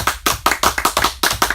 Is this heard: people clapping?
yes